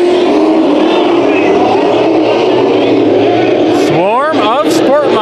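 A pack of Sport Mod race cars roars around the dirt oval at Bakersfield Speedway, a loud dense engine drone with rising and falling revs near the end as cars pass, while an announcer talks over it.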